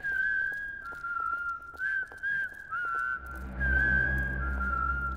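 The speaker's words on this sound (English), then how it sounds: "We'll whistle for you" People whistle a tune together in an animated children's math show, a steady, clear melody of sustained notes with brief gaps, heard alone with a low rumble entering toward the end.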